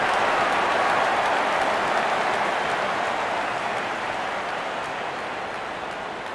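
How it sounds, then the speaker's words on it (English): A packed cricket stadium crowd roaring after a six in an IPL match between MI and KKR, a dense, loud, continuous wash of cheering that slowly fades a little across the clip. "The stadium is jam-packed and fans are cheering for their favourite team."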